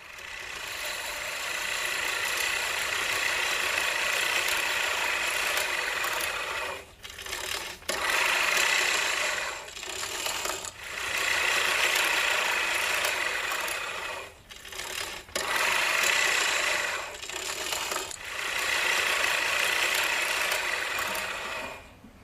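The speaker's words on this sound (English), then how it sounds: "Editor Webb is cutting the lawn." A small engine lawnmower cutting grass drones steadily and fairly close, its whirring buzz broken by several brief dips and pauses as it moves.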